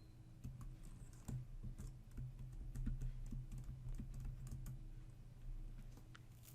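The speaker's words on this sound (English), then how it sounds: "You will not be able to see your typing." Typing on a computer keyboard while installing VirtualBox guest additions on Oracle Linux 8.4, a steady run of quiet, close keystroke clicks with irregular rhythm and no voices.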